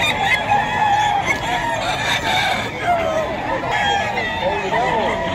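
Roosters and chickens crow and cluck at a pre-dawn outdoor pet market in Bocaue, Bulacan, several birds overlapping in a busy chorus against a background of crowd babble and voices.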